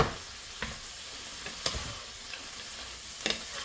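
Cheesesteak meat sizzles in a pan while a utensil breaks it up, a steady close frying hiss with a few sharp scraping clicks of the spatula and no voices.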